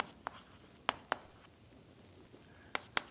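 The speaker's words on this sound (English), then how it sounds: "Let me write it in this way." Chalk or marker taps and short strokes on a lecture-hall board during a doctoral mathematics lecture, a handful of sharp, scattered knocks and scratches over quiet room tone.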